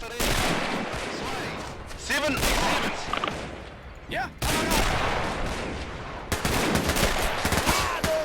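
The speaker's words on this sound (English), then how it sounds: "Get a couple of MG, or rather MP40s to go up there. Alright, and fire." MP40 submachine guns firing in Men of War: Assault Squad 2, a World War II battle at Dunkirk 1940, with dense overlapping bursts of rapid gunfire and scattered shots running throughout, loud and close.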